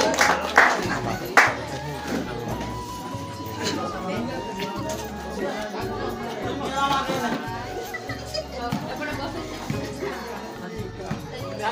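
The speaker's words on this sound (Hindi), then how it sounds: "करताली द्वारा आमे तांको सम्मानित करिया।" Audience applause at a government primary school event, a burst of clapping from a crowd mixed with children's chatter and background voices.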